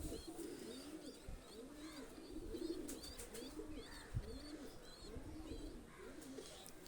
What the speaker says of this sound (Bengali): এটা হলো মাদি কবুতার